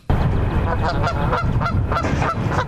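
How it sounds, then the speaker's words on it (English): A goose honks repeatedly and loudly inside a coffee shop on the Laurier campus, a dense run of harsh, rapid calls lasting the whole stretch. "It's believed the goose had wandered in through a sliding door."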